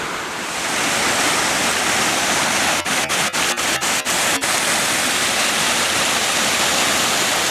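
A small waterfall in Whistlepipe Gully roars as a loud, constant broadband rush close by, with a brief series of sharp clicks partway through.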